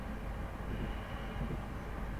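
A Class 450 electric train accelerates in the Train Sim 2020 video game on the Woking to Haslemere route, giving a steady, broad rumbling roar with no talking over it.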